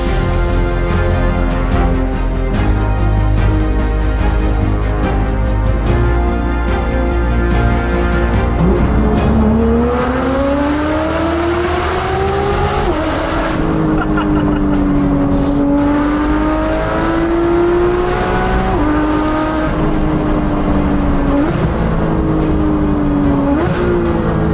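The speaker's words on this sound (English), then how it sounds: "the GT3 RS, and this thing is outfitted with a full IPE exhaust" A Porsche GT3 RS with a full IPE exhaust accelerates hard through several gears, its engine screaming up to high revs with rising pitch sweeps and short dips at each shift, loud and close throughout.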